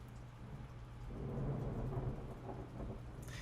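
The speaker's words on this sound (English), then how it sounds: "it's been thundering, so you might have been hearing that throughout the video" Distant thunder rolls as a low, faint rumble that swells and fades over about three seconds, with soft rain in the background and no talk.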